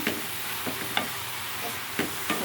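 A spoon stirs ridge gourd curry with salt in a sizzling pan, scraping the metal in several distinct strokes roughly every half second to second, close and moderately loud over a steady frying sizzle.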